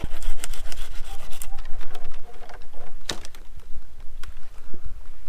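A Stihl hand saw cuts through a fruit tree branch during garden pruning, producing rough, irregular rasping strokes with scraping bursts and woody snaps, close and fairly loud.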